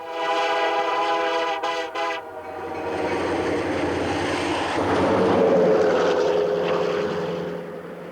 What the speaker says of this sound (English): This is the newest, most powerful, and most expensive locomotive working the head end for Via Rail.